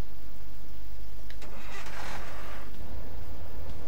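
A car engine starts up in the video game Thief Simulator, a short mid-clip burst of cranking and catching that rises quickly and fades back out, with no talking over it.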